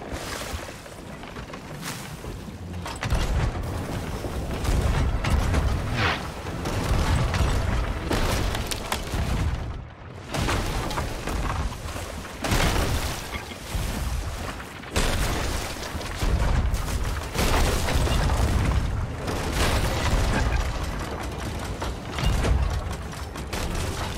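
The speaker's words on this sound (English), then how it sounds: "So I just started firing cannons." Ship cannons firing in the pirate game Sea of Thieves, a near-continuous roar of heavy booms and rumbling blasts layered over loud battle noise, with brief lulls between volleys.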